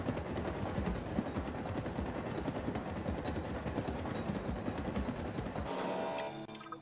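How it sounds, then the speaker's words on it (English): A helicopter in Jurassic World Evolution 2 gives a fast rhythmic rotor chop with engine whine, loud and continuous for several seconds before cutting off near the end. "Get to the chopper."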